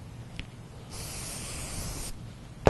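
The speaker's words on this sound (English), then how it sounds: "I'll spray it." A spray can hisses steadily for about a second during an interior install in a Ford F250/350 truck. The spray is close and fairly loud, with brief clicks before and a sharp knock at the end.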